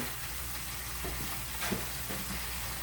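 Sliced squash with onions cooking in bacon grease in a pan: a low, even frying crackle with a few faint stirring scrapes and taps.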